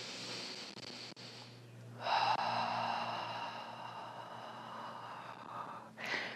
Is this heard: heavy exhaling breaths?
yes